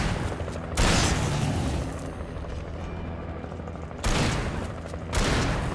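Shotgun blasts from the video game Alan Wake ring out three times, loud and broad, with the first and the last two closer together, over a continuous rumbling background.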